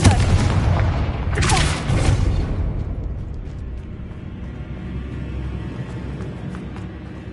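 A Confringo fire spell bursts in a Hogwarts video game with a heavy, booming blast that rolls out and fades into a low rumbling tail, loud and close, with no talk over it.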